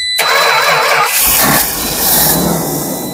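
A Travco RV engine, parked for 35 years, cranks and catches after a brief silence, then runs loud and rough with surging revs for a few seconds.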